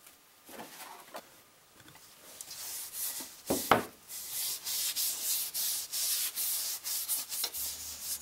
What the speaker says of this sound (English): Once this dries, I'll sand it back down again with 220.